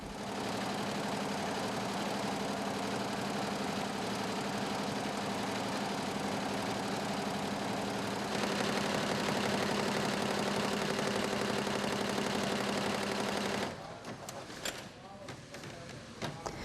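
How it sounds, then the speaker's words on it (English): A 20-head industrial embroidery machine sews logos onto pieces of buoyancy compensator device material, producing a dense, continuous mechanical drone that shifts slightly midway and then drops to a lighter clatter near the end. "This 20-head embroidery machine sews logos onto pieces of BCD material."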